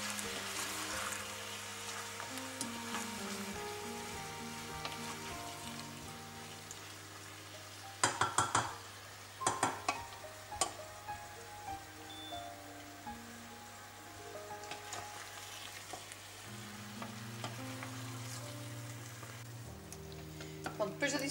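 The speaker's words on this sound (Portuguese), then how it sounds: "Vamos envolver um pouco o refogado no tomate." Sautéed base being stirred into tomato in a pan, a soft continuous sizzle with a short run of scraping and clinking strokes midway, heard under steady background music.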